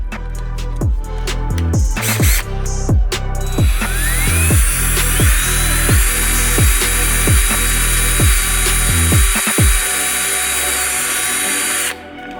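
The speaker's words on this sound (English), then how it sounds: "Okay, so now I gotta drill some holes." A power drill with a 3/16 bit bores holes for a front lip on a 2022 Honda Civic Sport in a rapid series of short bursts, then runs in one long steady whine before stopping; loud and close.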